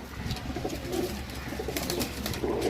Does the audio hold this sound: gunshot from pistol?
no